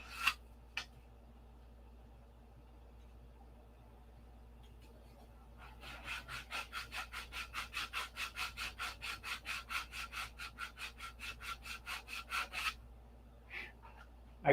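A sanding stick rubs back and forth on the nose glass of a P-47 model, starting with a few isolated scrapes, then a steady run of about twenty quick rhythmic strokes, close and fairly quiet, ending with a couple of separate rubs.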